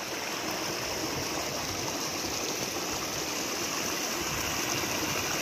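Steady rushing of a stream flowing past a village in Kenya, a continuous broadband water wash that stays even and fairly close throughout, with no voices.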